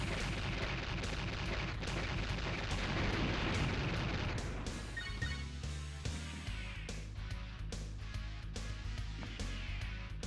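Repeated gunfire from the player's weapon in the side-scrolling game Blaster Master: Blasting Again, a steady run of shots layered over dense game music and booming effects, loud and continuous with no talk.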